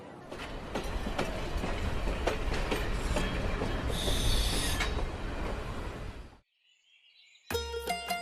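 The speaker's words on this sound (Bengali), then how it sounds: "ট্রেন ছেড়ে দিচ্ছে" A cartoon train pulls away with loud rolling clickety-clack and a squealing wheel whine that build steadily, then cut off abruptly into near silence before a short, different sound effect starts at the end.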